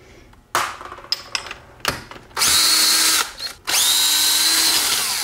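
Power tool spinning off bolts from the extension housing of a Tremec TKO five-speed transmission: short loud whirring bursts, then two long sustained runs of the tool, close up with no talk.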